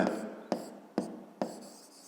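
Pen strokes scratch on paper as an answer is written by hand, close and quiet, with four short sharp taps spaced about half a second apart marking the strokes.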